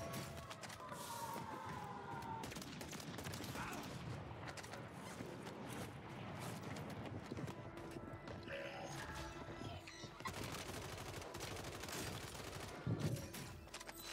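Gunfire in Call of Duty on Rebirth Island, with rapid bursts of shots and clattering action sounds running faintly and continuously across the stretch.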